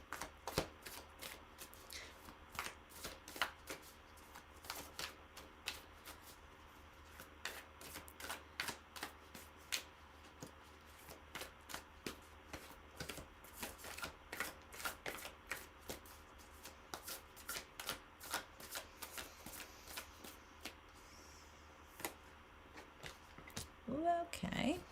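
A deck of tarot cards being shuffled over and over, soft quick riffling flicks in an irregular rhythm, faint and close in a quiet room.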